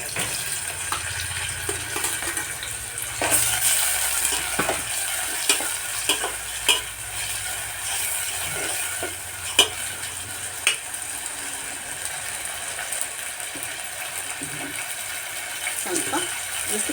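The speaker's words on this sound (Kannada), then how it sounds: "ಈಗ ನಾವು ಹೆಚ್ಚಿಟ್ಕೊಂಡಿರುವಂಥ ಟೊಮೊಟೊ ಹಣ್ಣನ್ನು ಹಾಕ್ತೀವಿ." Chopped tomatoes are added to a hot pan for a ridge gourd palya and fried with steady sizzling, while a spoon scrapes and stirs in irregular clinks and knocks throughout.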